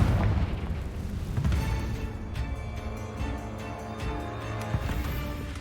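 Confringo fire spell explosion in Hogwarts Legacy, an opening boom trailing into a sustained low rumble with crackling and popping, near and steady.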